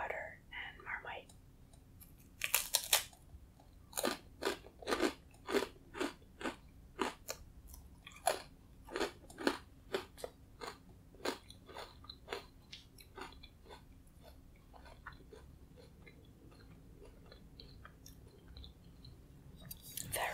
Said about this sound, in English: So I have some crackers, whole wheat crackers with some butter and Marmite.